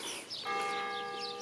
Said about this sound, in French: on entend la cloche du clocher